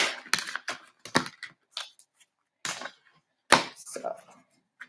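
Crisp, irregular bursts of tarot cards being shuffled and riffled close up, separated by short pauses.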